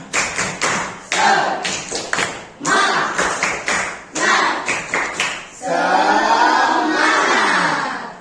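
A group of children in a classroom claps in a quick rhythmic spirit-clap pattern with short pauses, then breaks into a loud burst of cheering and shouting.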